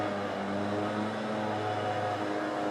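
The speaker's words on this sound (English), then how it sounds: "I know you can hear the leaf blowers whirring in the background." Leaf blowers whir steadily in the background, a faint continuous droning hum with no breaks.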